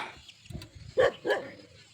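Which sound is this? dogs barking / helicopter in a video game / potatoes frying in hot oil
dogs barking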